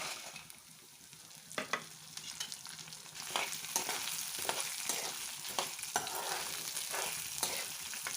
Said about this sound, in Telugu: ఎండుమిర్చి కూడా బాగా ఫ్రై అవుతుందండి